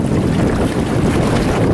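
Strong wind roars steadily across the microphone aboard a sailboat clipping along on open water, loud and continuous with a low rumbling buffet and faint wave wash beneath.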